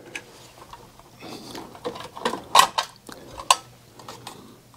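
A nut is being unscrewed from the tankless coil cover of an oil-fired boiler, making faint, sporadic metallic clicks and scrapes with a few sharper clinks, close by and without talking.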